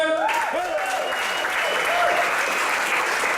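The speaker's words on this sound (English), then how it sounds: "Everyone, please give a big round of applause to Ben Rogard." A stand-up comedy audience applauds loudly and continuously while a voice briefly speaks over the clapping.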